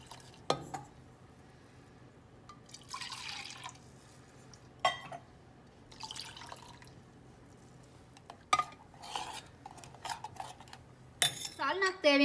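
Intermittent scraping and clinking of a utensil against a pot while mixing onion salna with plenty of water, in short bursts separated by quiet pauses, with some liquid sloshing and small drips.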